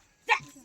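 A single short dog bark, sharp and fairly close, rising from a quiet background and fading quickly.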